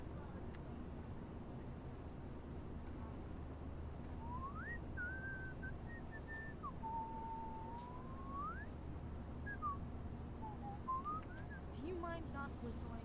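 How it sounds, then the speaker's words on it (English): A character in the Life Is Strange Remastered video game whistles a wandering, sliding tune in several phrases over a low airplane-cabin hum, fairly close and clear. "Do you mind not whistling?"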